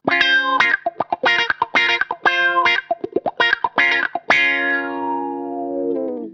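Funky guitar through a Carl Martin Ottawa auto-wah pedal with choppy, percussive strumming in short rhythmic bursts, ending on a long sustained chord that slowly fades.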